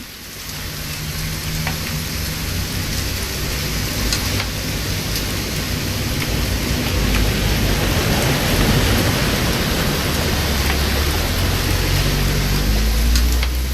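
Steady rainfall hisses throughout a scene in the video game What Remains of Edith Finch, a dense close wash with a low thunder rumble building faintly underneath toward the end.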